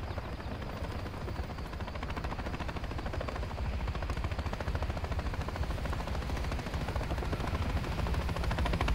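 Helicopter rotor thrum in the Modern Warfare III campaign, a dense, steady roar with rapid gunfire-like chatter layered throughout, loud and continuous with no talk.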